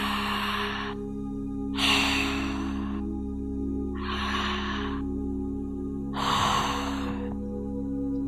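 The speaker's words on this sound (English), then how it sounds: "I'd like you to open your mouth now and just start to breathe in." Four slow, deep inhalations through an open mouth during a yin yoga breathwork session, each a steady airy rush lasting over a second, evenly spaced and close, over a constant low hum.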